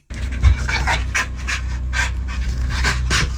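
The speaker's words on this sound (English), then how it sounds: "The dog likes it when the fan spins." A dog pants rapidly and steadily, close by, while jumping excitedly at a spinning fan, the quick breathy rhythm continuing alone throughout.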